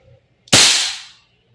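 An Umarex HK416D airsoft gas blowback rifle fires one sharp, loud report at close range, with a hissing tail that fades within about half a second.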